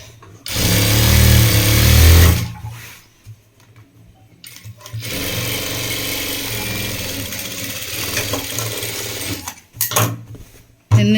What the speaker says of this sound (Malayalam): ഇങ്ങനെ സ്റ്റിച്ച് ചെയ്ത് വെക്കുക.